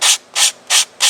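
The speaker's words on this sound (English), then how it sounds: "Then when you want to just do some fine sanding, that's when you bring in the hand sander" A hand sander rubs over the wood of an Emirates 777-9X RC airliner model in four quick, even back-and-forth strokes, each a close, bright scratchy hiss.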